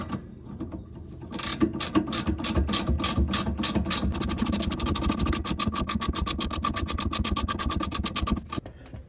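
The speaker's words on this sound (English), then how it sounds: "Now we'll remove this bolt here." A ratchet loosening the rear shock bolt on a 2006 Honda Civic after penetrating oil, heard as a long, close, loud run of rapid mechanical clicks that speed up into a steady fine ratcheting before stopping abruptly.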